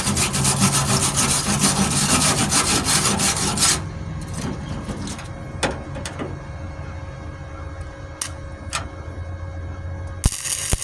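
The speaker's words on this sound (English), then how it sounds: "I just take my wire brush and keep the welds clean" A wire brush scrubs the welds on a 1998 Ford Ranger tailgate, giving rapid, harsh scratching strokes up close, then stops, leaving scattered taps and clicks before the scrubbing briefly resumes.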